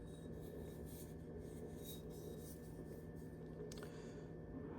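Sandpaper rubbing over an old wooden screwdriver handle, a steady close rasping scrape that runs continuously without pause, with no talk over it.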